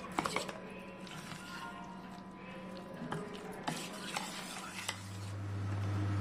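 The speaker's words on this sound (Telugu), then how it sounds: "ఉండలు లేకుండా మంచిగా కలుపుకోవాలండి ఇది." Rava dosa batter of semolina and water stirred in a bowl, with irregular scraping clinks and wet swishes from a utensil, close and moderately quiet, followed by a rising low hum near the end.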